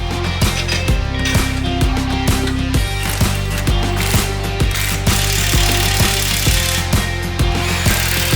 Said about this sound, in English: you can hold the bolt with an 8mm socket while you tighten the nut down